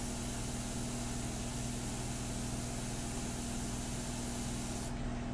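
An airbrush sprays India ink for a portrait painting, a steady close hiss that runs unbroken throughout.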